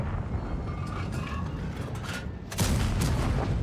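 A tank's main gun fires in a World of Tanks–style game, a loud broadband blast landing near the end amid steady rumbling engine and battle noise, with no talk over it.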